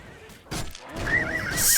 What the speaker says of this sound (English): My horse almost got killed.